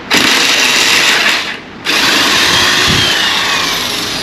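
A power tool whirs loudly and close while loosening a 13 bolt on the carrier of a Yamaha RX135 motorcycle under restoration, running steadily with one brief dip in speed partway through.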